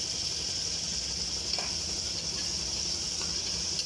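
Onions and tomatoes with a little salt sautéing in a pan, a steady close sizzle and hiss with faint stirring scrapes, no talking.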